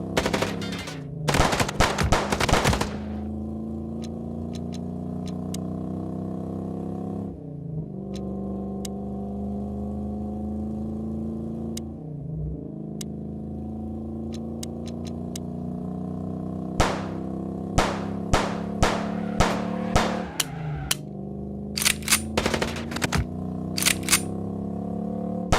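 Gunfire from the video game Chicken Police fires in rapid automatic bursts over a steady engine drone from a moving car, with bursts near the start and a string of sharp shots toward the end.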